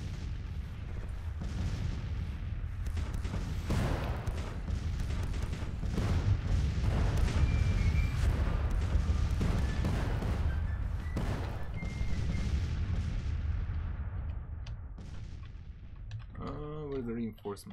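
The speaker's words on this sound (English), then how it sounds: "Yeah, all the batteries are firing." Artillery batteries firing in a Civil War strategy video game, a dense rolling barrage of booms and thuds layered over one another for many seconds, loud and continuous before tapering off, with a voice briefly heard at the end.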